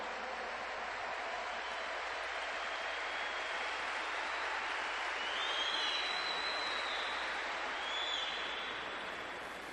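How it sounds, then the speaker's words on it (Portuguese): A church congregation applauds in one steady, sustained wash of clapping that sounds fairly distant and even from start to finish. "Vamos aplaudir os anjos de Deus que estão conosco."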